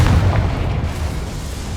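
A Confringo fire spell explodes in the Hogwarts Legacy video game: a loud, deep boom that rolls into a fading low rumble, with no other sounds.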